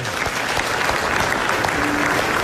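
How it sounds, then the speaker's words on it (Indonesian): A studio audience on an Indonesian comedy show claps loudly and continuously, dense close applause filling the whole short stretch. "Iya, tepuk tangan dulu dong."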